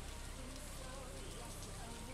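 Steady rain in the Stardew Valley video game patters continuously at an even, fairly loud level for the whole stretch, with no breaks or surges.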